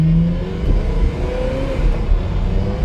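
A Ferrari 360 with a flood-damaged past accelerates on the road, its engine note steady and loud throughout with a rising tone as it climbs through the gears.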